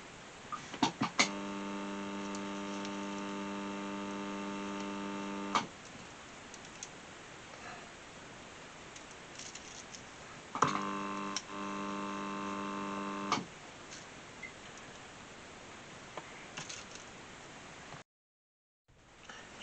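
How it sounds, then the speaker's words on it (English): A resistance soldering machine, used on a small model wagon build, hums with a steady electrical drone in two separate bursts of several seconds each, with quiet handling ticks between them. "And I'm using the resistant solder machine."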